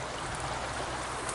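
Creek water runs past at a ranch, a steady, close rush of flowing water with no breaks throughout.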